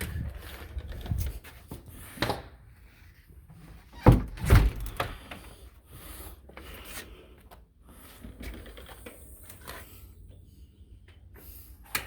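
A storm door swings shut with a solid thunk and a sharp click of the latch, followed by faint rattling and scraping.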